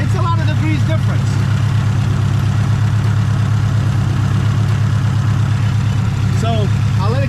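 A turbocharged 840 whp 2018 Subaru WRX STI engine idles steadily with a deep, continuous low rumble, close and loud, holding an even tone throughout.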